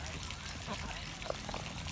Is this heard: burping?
no